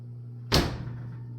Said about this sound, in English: let's record the freezer door. The oven door also seems like a great choice